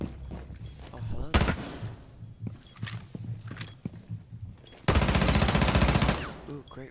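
Gunfire in Rainbow Six Siege, rapid automatic bursts and single shots at close range, ending in a long loud sustained volley, with footsteps and a voice talking over the action.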